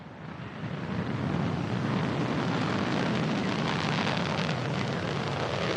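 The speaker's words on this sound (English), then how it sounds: "Liftoff of the Progress 58 cargo ship on a fast-track flight to the International Space Station." Soyuz booster lifting off with the Progress 58 cargo ship bound for the International Space Station: a dense, steady roar that swells over the first second and then holds loud and broad.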